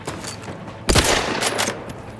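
Weapon fire in the sci-fi game Return to Space Sector 2089: one loud, sharp blast stands out against a steady hiss of background fire and effects.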